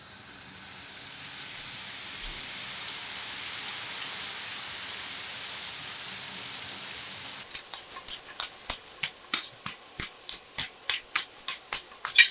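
A constant soft sizzling hiss of crispy-battered otak-otak frying in hot oil, later joined by a rapid series of sharp, regular clicks or taps growing louder.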